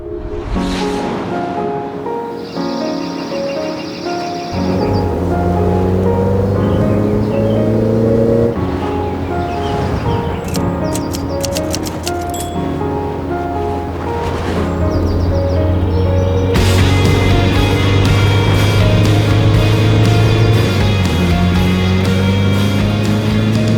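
A Lotus sports car drives on an open road, its engine droning loudly with rising and falling tones as it moves through gears, over steady wind and road rush.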